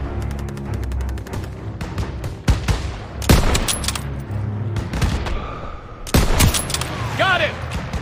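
Battle gunfire in a Call of Duty WW2 stronghold fight: rapid rifle and machine-gun bursts with heavy booming impacts, loud and layered, while soldiers shout over the din and music plays beneath.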